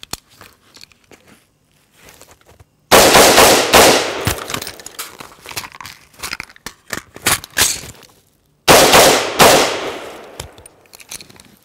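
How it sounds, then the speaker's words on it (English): Gunfire from a few rounds fired with a speed reload, heard as loud, close bursts of sharp cracks separated by a quiet gap where the reload happens. "I'm just going to fire a few rounds here, do a speed reload"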